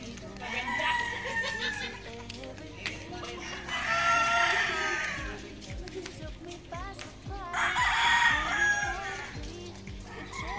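Roosters crow twice on a farm, each drawn-out call rising loud and near over a bed of chickens clucking, with people talking faintly in the background.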